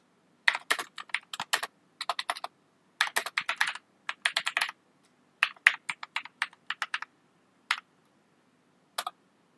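Rapid bursts of typing on a computer keyboard while order data is entered, close and clear, clattering in short irregular runs with brief pauses between them.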